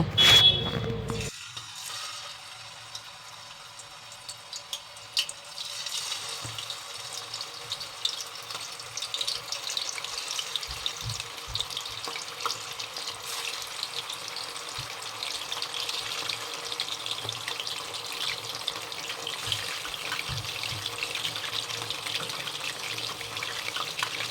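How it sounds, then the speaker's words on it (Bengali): Chicken pieces drop into hot oil for a homemade green chicken kebab, with a loud initial burst that settles into a continuous, fairly loud sizzling hiss holding steady throughout. "তো তেলটা এদিকে আমার গরম হয়েই এসেছে। এবার আমি চিকেনগুলো দিয়ে দেব।"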